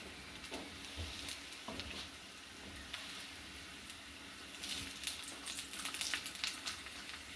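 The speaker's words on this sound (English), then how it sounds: "those are getting nice and sizzly" Tortilla chips frying in hot oil, a soft continuous sizzle with light crackling that swells louder toward the end, close and without voices.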